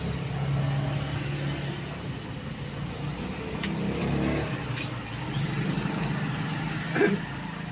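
A motorcycle engine idling steadily at moderate volume, with a few faint clicks and a small knock near the end.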